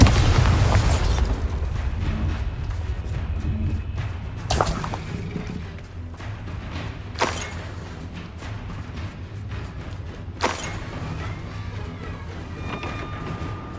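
Confringo and Bombarda explosive spells blast in the Hogwarts Legacy video game on PS5: a heavy opening explosion, then three more sharp booms spaced a few seconds apart over a steady rumbling game backdrop.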